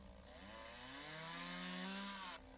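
A video-game chainsaw in Lumberjack Dynasty cuts through logs with a steady high-revving buzz, the engine pitch rising and holding for about two seconds before it cuts off abruptly.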